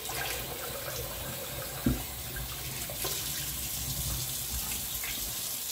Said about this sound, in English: I'm going to do a quick rinse with the cold water here.